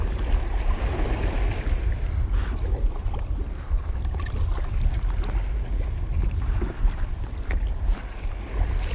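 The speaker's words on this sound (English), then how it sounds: "Getting a heap of messiness and some wind now." Wind buffets the microphone while a sea kayak rides waves off Tasmania, a continuous loud roar with rumbling low gusts and splashing water throughout, with no voices.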